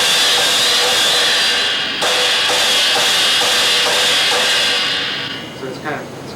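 A cymbal on a stand, fitted with metal washers on top, rings with a bright, sizzling shimmer after a strike, sustaining loudly before a second hit and slowly decaying near the end.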